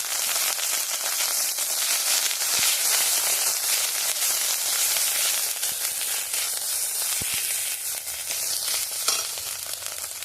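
Ginger and panch phoron spices frying in hot oil in a home kitchen for a vegetarian banana curry, a steady dense sizzle with crackling pops throughout, close and continuous, no talking.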